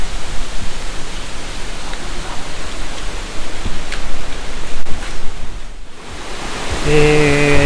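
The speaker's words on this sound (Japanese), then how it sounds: "観音の滝はですね、ここから下の方へ落ちていくんですが" The Kannon waterfall roars steadily nearby with a dense, continuous broadband rush that holds an even level throughout and dips only briefly near the end, with a faint tonal hum entering at the close.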